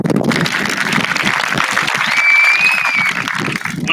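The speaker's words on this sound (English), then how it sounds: "Let's give ourselves a round of applause." Applause at a high school graduation ceremony, a loud crowd clapping continuously in a large space, with a brief whistle partway through.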